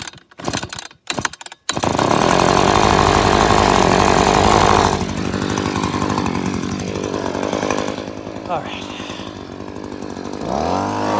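An Echo leaf blower's small two-stroke engine starts after a few short pulls and then runs on choke, warming up with a loud, steady, raspy drone that wavers and surges unevenly near the end.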